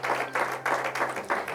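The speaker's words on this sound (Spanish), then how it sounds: "Dele ese aplauso fuerte al Señor" A church congregation claps for the Lord in strong rhythmic bursts, a steady beat of loud group applause over a faint low hum.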